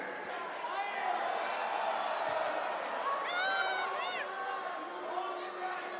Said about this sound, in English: Listen to this crowd, guys.